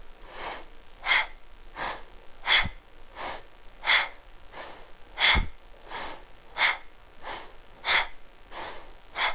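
Slow, steady breathing in and out through the nose during a yoga flow: about a dozen soft, airy breaths in an even rhythm, close and quiet, with no talking.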